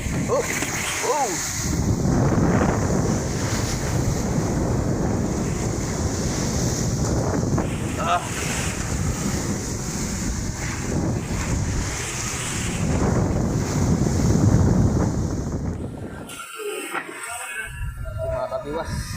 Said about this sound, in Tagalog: Malakas ang alon mga kabiwas. Malakas ang hangin ng habagat.